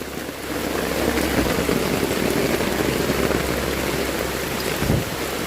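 Rain falls steadily and densely, a continuous close patter with no voices, and a faint low rumble underneath.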